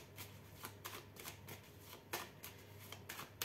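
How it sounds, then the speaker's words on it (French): Oracle cards slid and laid over one another on a table, faint papery swishes and light taps repeating in an uneven rhythm, close and quiet with a low hum behind them and no speech. "On va recouvrir chaque carte."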